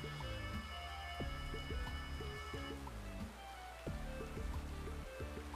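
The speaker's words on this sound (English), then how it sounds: "The raining sound effects are nice." Steady rain ambience from the Toontown: Corporate Clash video game, a continuous hiss running under a looping game melody throughout.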